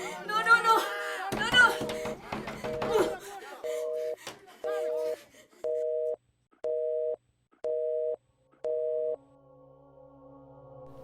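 A telephone busy signal sounds as a steady series of evenly spaced beeps, about eight pulses, after a burst of children's voices and laughter, for a call that goes unanswered.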